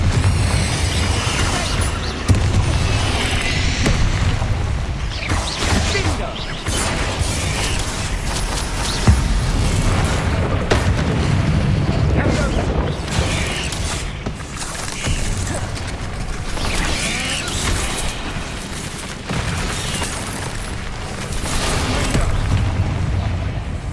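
Repeated Bombarda and Confringo spell blasts in the Hogwarts Legacy video game, a dense, loud stream of booming explosions and crackling impacts layered over game music and effects, nearly continuous throughout.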